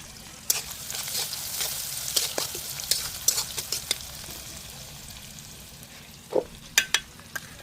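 Potatoes fry in oil with onion and green chili in a home kitchen, giving a soft, continuous sizzle. Sharp clinks and scrapes of stirring break through now and then, with a few louder knocks near the end.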